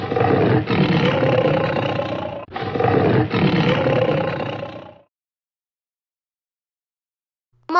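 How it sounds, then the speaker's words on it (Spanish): Tiger roaring: two long, loud, deep roars back to back, each lasting about two and a half seconds, close and clear, then silence. "tigre"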